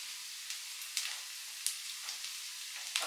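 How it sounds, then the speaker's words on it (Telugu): Onions and mixed vegetables fry in a pan for an egg Maggi dish, giving a steady soft sizzle with a few brief louder crackles and stirring noises. The sound is fairly quiet and there is no talking. "ఆనియన్స్, ఈ వెజిటేబుల్ కొంచెం వేగాలి"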